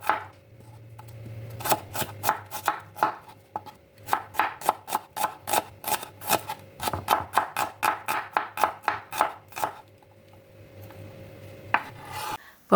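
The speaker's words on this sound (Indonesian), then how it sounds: "Bawang merah sudah diiris-iris tipis" A knife thinly slicing shallots on a cutting board, a quick run of crisp, evenly spaced chopping taps that speed up, pause briefly, then resume, close and clear with no talk.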